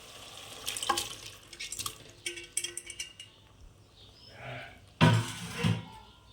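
Parboiled chicken, softened with turmeric and salt, tipped into a hot pan and stirred, giving scattered scraping and clattering stir strokes and a loud sizzling burst near the end.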